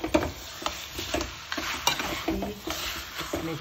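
Mutton masala for Laal Maas frying in oil in a pan, heard as soft sizzling broken by irregular scraping and stirring clatter from a utensil, close and moderately quiet.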